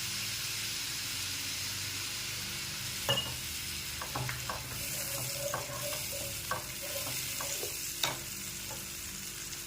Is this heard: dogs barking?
no